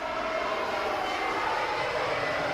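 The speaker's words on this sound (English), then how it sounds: "It's an old AirAsia A320." An old Airbus A320 jet airliner's engines give off a steady, even roar with a whooshing hiss that stays constant throughout, without any breaks.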